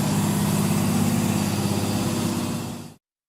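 A Volvo A40G articulated hauler's diesel engine runs at a steady low rumble close by for about three seconds, then cuts off abruptly into silence.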